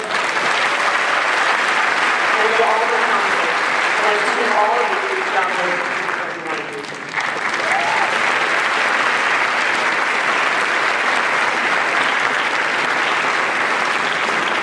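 An inauguration audience in Aurora gives an Alderman at Large a long, loud round of applause, dense steady clapping that dips briefly in the middle while a voice speaks over it, then swells again.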